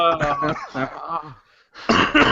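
A person nearby breaks into a harsh coughing fit, several loud, rough bursts with short gaps and a brief pause before a final burst.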